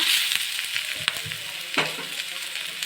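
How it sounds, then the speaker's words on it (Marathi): Onion roasts in a pan for a Malvani crab curry masala with a continuous close sizzle. A few scattered spatula taps and scrapes stand out, and no one speaks. "आपला कांदा भाजून झालेला आहे"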